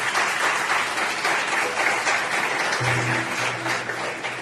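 A church congregation claps together in sustained, dense applause, steady and fairly loud throughout, with a low hum joining near the end.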